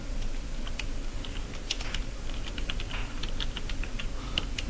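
Steady close typing on a computer keyboard while writing C++ code, a quick irregular patter of key clicks with brief pauses, alone without talk.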